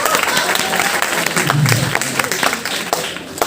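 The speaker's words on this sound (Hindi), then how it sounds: "एक बार पुनः आप लोग अपने लिए जोरदार तालियां बजाएं" Audience applause at an open mic and food carving event at RGSC BHU: steady, dense clapping through the whole stretch, with a voice talking over it.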